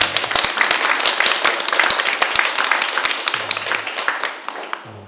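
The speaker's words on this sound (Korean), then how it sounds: "우리 격려 차원에서 힘차게 박수 한번 주십시오" A church congregation claps vigorously for the Sunday school children, a dense, steady burst of many hands close by that holds for several seconds and thins slightly toward the end.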